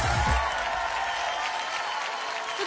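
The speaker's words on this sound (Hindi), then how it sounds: "जोरदार तालियां हो जाए दोनों के लिए।" Studio audience at a Khatra Khatra Khatra TV show applauding the two contestants, a brief, full burst of clapping that stays steady before easing slightly.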